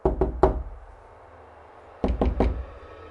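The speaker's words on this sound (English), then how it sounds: "a faint tapping sound coming from downstairs" Three quick knocks on a door, a pause of over a second, then three more, deliberate, crisp and fairly close, set against a quiet room.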